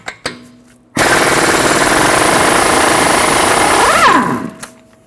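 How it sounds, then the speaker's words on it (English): A rapid, loud mechanical rattle from an impact wrench loosening the axle nut with a 30mm socket on a 2014-2019 Toyota Highlander, running about three seconds after a couple of brief clicks and then winding down quickly. "Using a 30mm axle nut socket, remove the axle nut."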